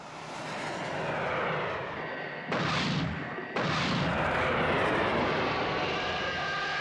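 Rapid bursts of gunfire from Thunderbirds craft shooting at alligators, booming over a sustained aircraft engine roar, with two sharp loud blasts in the middle.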